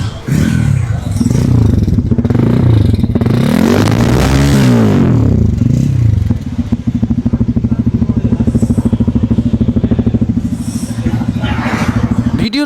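Bajaj Pulsar F250 motorcycle engine close by, revving up and down with rising and falling pitch sweeps, then settling into a steady, throbbing idle with a mechanical clatter.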